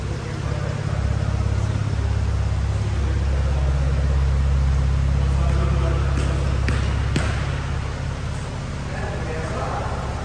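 A Porsche 911 Turbo S with a 3.8-litre, 581-horsepower flat-six engine runs steadily close by, a deep continuous low rumble holding through the whole stretch, with a faint voice in the background.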